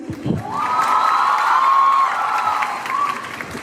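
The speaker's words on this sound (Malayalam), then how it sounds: "നല്ലൊരു കൈയടി കൊടുക്കാൻ പറ്റും" An audience at a stage event for a film promotion bursts into loud cheering and whooping with clapping, a sustained crowd roar lasting about three seconds.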